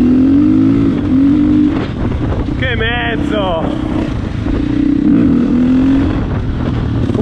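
A 2020 Husqvarna FE 501 motorcycle engine droning and rising in pitch as it accelerates, loud and close, with a rider's voice talking over it partway through.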